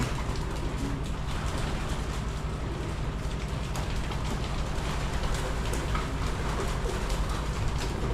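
Pigeons coo over and over inside a loft, close and fairly loud, against a steady hiss of heavy rain.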